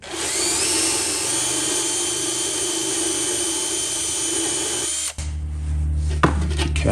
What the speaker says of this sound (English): I've just put a brass brush into the drill.